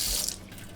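Water runs briefly from a sink tap fitted with a filter, a short close hiss of flow that fades within a second.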